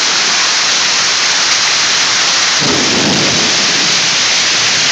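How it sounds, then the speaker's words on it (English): Hail pelting down during a June storm in Dallas, with a truck out in it: a dense, loud, steady hiss of hailstones hitting surfaces, growing heavier and thicker partway through, with no voices. "It's hailing in Dallas."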